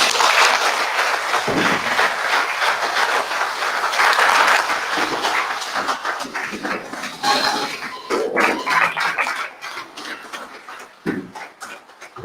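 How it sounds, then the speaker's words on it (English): An audience at a Nigerian university registrars' lecture event applauds steadily, the clapping fading in and out over several seconds and thinning toward the end. "Let's obtain the applause."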